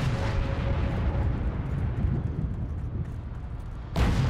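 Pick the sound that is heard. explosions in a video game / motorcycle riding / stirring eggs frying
explosions in a video game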